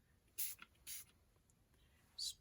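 Tattered Angels Glimmer Mist, a blue mica-laden mist, sprayed from a pump spray bottle: three short, sharp hissing bursts at close range, the first two close together and the third after a pause, over quiet background.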